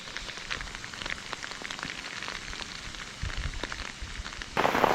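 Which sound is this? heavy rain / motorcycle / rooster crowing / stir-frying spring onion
heavy rain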